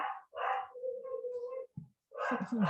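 A dog barks in short bursts, with a drawn-out whine between them, fairly close and clear, with silent gaps between the calls.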